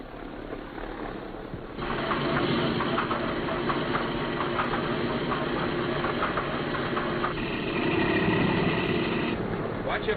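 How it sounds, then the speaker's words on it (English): The number 2 engine of a Boeing B-17 bomber cranks and catches, then settles into a loud, steady rumbling idle, with a second rise in level later and talk faintly underneath. "The horizon should snap into position firmly and quickly just as soon as the number 2 engine starts."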